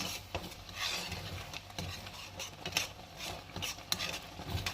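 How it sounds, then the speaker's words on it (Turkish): A spoon stirs tomato sauce seasoned with rock salt for winter squash, giving soft, close scraping and light tapping against the pot in an uneven rhythm, with faint bubbling underneath. "Bir yemek kaşığı kaya tuzu üzerine serpiyorum. Ve güzelce bir karıştırıyoruz."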